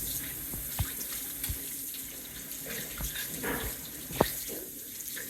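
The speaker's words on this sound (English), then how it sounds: "now we are going to rinse them in hot water." Instruments being rinsed under hot running tap water in a sink, a steady close hiss of flowing water with a few sharp clinks of metal against the basin.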